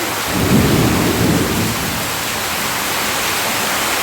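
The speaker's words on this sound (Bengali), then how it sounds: "গর্জাচ্ছে মেঘের আওয়াজ" A deep thunder rumble rolls through in the first couple of seconds over heavy, steady rain pouring onto a flooded courtyard, the downpour continuing alone after the rumble fades.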